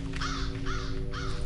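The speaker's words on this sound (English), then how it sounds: "It's a murder of crows. Damn crows." Three harsh crow caws in a row in the video game F.E.A.R., evenly spaced and fairly close, over a low background hum.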